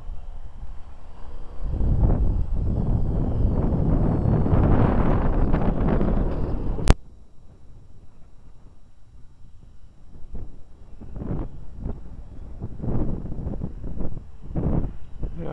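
Strong wind buffets the microphone during a flight of an E-flite UMX Carbon Cub SS model plane in 8-16 mph gusts, loud at first, then cut off abruptly and followed by intermittent weaker gusts.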